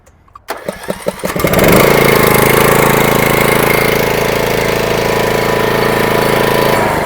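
A hitch-mounted core drill's electric-start engine turns over with a few quick cranking pulses, then catches and settles into a loud, steady running drone close by.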